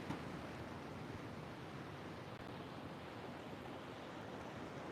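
Seawater rushes back out after a wave on a coastline, a steady, broadband wash of surf that is close and continuous with no voices.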